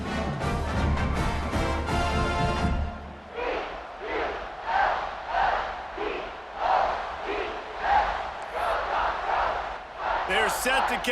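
A stadium crowd in a college football video game chants and cheers before kickoff, starting with a loud roar and then pulsing in rhythmic swells.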